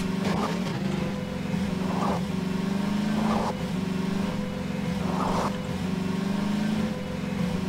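A car engine drones steadily in the video game Garry's Mod, holding a constant hum with periodic brief revving surges every couple of seconds, fairly close and with no talk over it.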